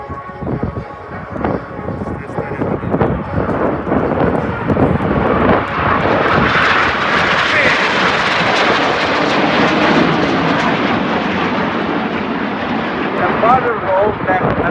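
An aerobatic airplane flying a barrel roll at the Quinte West Airshow: a loud engine roar that swells as it passes overhead, then holds steady as it fades slowly, with a voice on the public address system talking over it.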